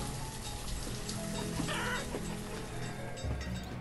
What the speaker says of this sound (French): Les poulets, ça fait un bruit de malade